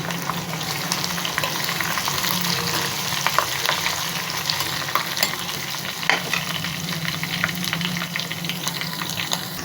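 Green chilies and black peppercorns fry in a pan with a dense, even crackling sizzle and scattered sharp pops, close and fairly loud, lasting without a break and with no one talking.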